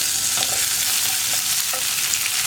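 Dried red chillies and curry leaves sizzling in hot oil for wheat flour upma, a dense, loud, continuous crackle with a few sharper pops up close.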